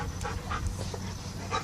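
Rapid, rhythmic dog panting close by, quick breathy puffs repeating steadily with a low background hum underneath.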